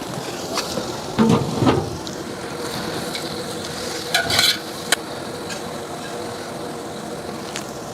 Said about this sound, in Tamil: வெங்காயம் கோல்டன் ப்ரௌன் வர வரைக்கும் விட்டுருவோம்.